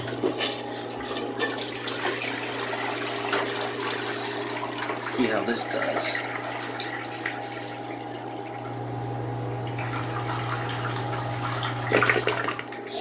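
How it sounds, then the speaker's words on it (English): A miniature 1970s Briggs Abingdon toilet flushes with a steady gush of running water over a constant low hum, while a person speaks briefly. "Alright, here's the flush."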